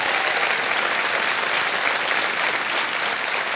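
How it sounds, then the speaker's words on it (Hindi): A TV game show studio audience applauds steadily and loudly, with dense, continuous clapping from many hands throughout and no break. "तालियां बज जाएं इनके लिए।"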